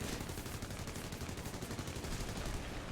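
Twin .30 calibre machine guns on a P-26 fighter in War Thunder fire one continuous, loud, rapid burst of rattling shots for several seconds, heard close up.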